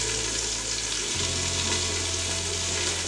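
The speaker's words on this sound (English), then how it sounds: "I've got the chicken frying" Steady sizzling of chicken frying in a pan, a constant crackling hiss close by with a low hum underneath.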